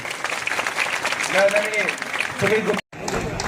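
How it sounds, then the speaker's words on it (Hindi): Audience applause rings out at a Vijay Diwas gathering of an ex-servicemen's council, honouring new Indian Army recruits. The clapping is steady and full, with voices briefly rising over it and a momentary cut near the end. "तो जोरदार तालियां होनी चाहिए"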